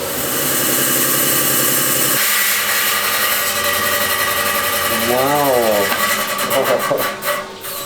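A rock saw slicing lengthwise through rough Malawi agate gives a loud, continuous grinding whine with a steady hum beneath. A voice talks over the cut partway through, and the cutting noise falters toward the end.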